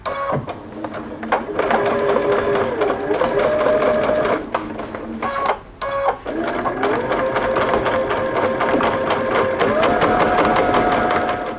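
A sewing machine fitted with a narrow zipper foot and the needle shifted right stitches down a fabric edge on a small pin cushion, running in steady bursts with speed changes and a couple of brief pauses, loud and close.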